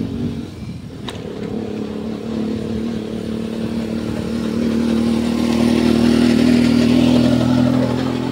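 A motorcycle ride with a steady engine drone that builds gradually louder and close, with some clattering and wind, no talking.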